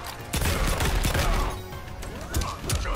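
A cannon blast from a Robocop fighting video game fires in a quick burst of crashing, gunfire-like hits, followed by further impacts, with no clear talk over it.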